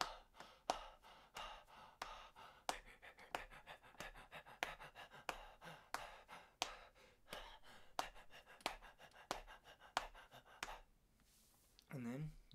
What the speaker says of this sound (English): we're going to breathe twice as fast for four measures, and then four times as fast for four measures